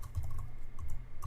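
Keys clattering in quick irregular bursts as a command is typed on a computer keyboard while setting up SSH on a Cisco device, close and fairly quiet with steady background hum.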